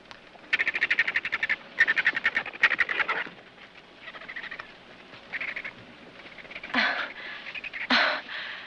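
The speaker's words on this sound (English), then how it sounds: "Oh, that's a whiskey jack" A gray jay gives a series of rapid, raspy calls in bursts, fairly close, followed by a few softer chattering notes and two sharper squawks near the end.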